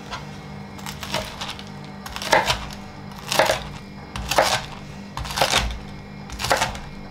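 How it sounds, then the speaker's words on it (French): A knife cuts through a galette on a board, giving about six evenly spaced crunchy chops over a low background hum. "Ensuite, la galette. Hop. Et on va venir la couper."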